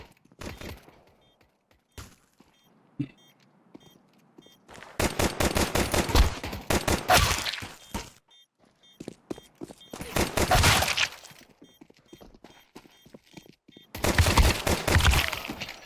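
Gunfire in Counter-Strike 2, loud rapid bursts of shots in three clusters separated by near silence, with a few isolated single shots between them.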